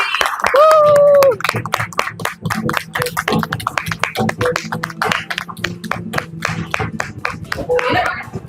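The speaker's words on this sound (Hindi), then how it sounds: "जोरदार तालियों के साथ स्वागत कीजिए चेल्सी" An audience at an anniversary celebration claps to welcome a speaker named Chelsea, a rhythmic run of sharp individual hand claps lasting several seconds, with a voice calling out loudly at the start and some children's voices.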